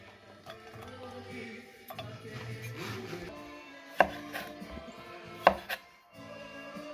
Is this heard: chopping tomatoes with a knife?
yes